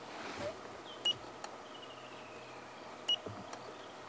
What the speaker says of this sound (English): Can I just wrap it? Cool. With a beep.